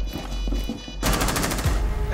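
Automatic gunfire in Rainbow Six Siege during a bomb-mode match at a theme park, a quiet stretch of rattling shots followed by a louder, rapid burst of close fire with no voices.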